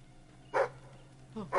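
A dog in the video game Fable 3 gives two short barks about a second apart, moderately loud over a quiet game background, with a third bark starting at the very end.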